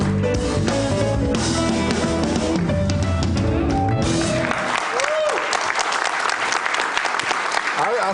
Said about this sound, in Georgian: ასეთი აპლოდისმენტები დაიმსახურეთ